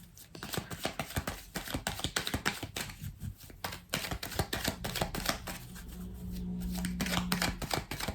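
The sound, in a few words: tarot cards being handled and laid out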